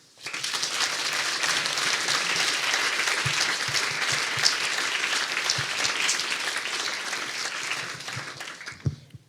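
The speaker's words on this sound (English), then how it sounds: "And now you can do your second applause." An audience at a university guest lecture applauds in welcome for author Constance Debré, a sustained, even wash of clapping lasting about nine seconds before it stops abruptly.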